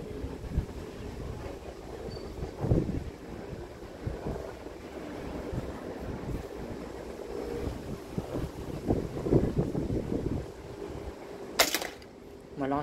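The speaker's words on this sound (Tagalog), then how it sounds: "Malakas talagang hangin" Strong outdoor wind batters the microphone in a constant low, blustery rumble with gusty surges, during an air-rifle pellet accuracy test at 22 yards, with people talking faintly through it.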